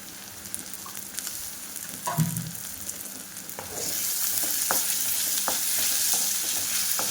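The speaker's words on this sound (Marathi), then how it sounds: "कांदा फ्राय होत आहे" Onion frying with ginger garlic paste for tomato rice, with a close, steady sizzle and scattered spoon stirs that grows louder and denser partway through. No one speaks.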